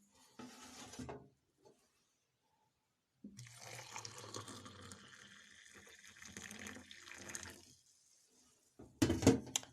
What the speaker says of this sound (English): And then now some hot water.